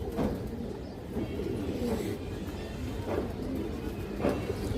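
Gola pigeons, an old breed of flying pigeon, coo in a loft, with low throaty coos repeating at a slow, regular pace under a steady background hum.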